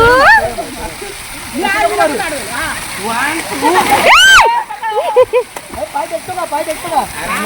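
Water splashing close by while several people talk and shout excitedly, with one loud rising whistle-like cry in the middle.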